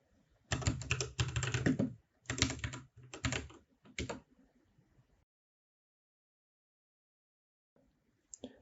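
Someone types a command on a computer keyboard in several quick bursts of clattering keystrokes, close and clear, then falls silent apart from one faint tap at the end.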